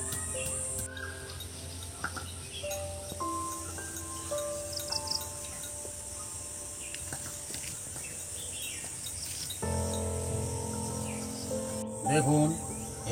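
A koel calls outdoors with a few clear whistled notes at a distance, over steady background hiss and some nearby kitchen noise.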